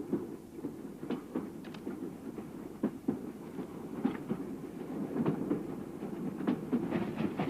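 A train runs steadily on its rails, giving a continuous low rumble with faint rhythmic clacking from inside a carriage. The sound is moderately loud and even, with no talking.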